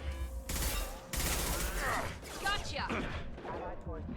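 Gunfire in Mass Effect 2, sharp bursts of shots and impacts in a combat firefight, mixed with voices talking over the action.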